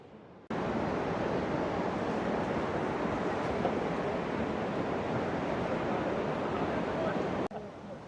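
Kegon Falls in Nikko, Japan, roars in a steady, dense rush of water from a nearby viewing platform, starting abruptly and holding constant throughout.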